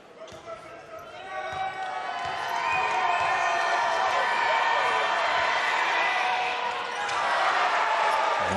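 A crowd at Toropaha Arena in Porirua reacts during a basketball semi-final between Wellington Saints and Otago Nuggets after missed free throws. The roar swells loud and sustained with cheering and whistles, ball bounces thud underneath, and a commentator's voice runs over it.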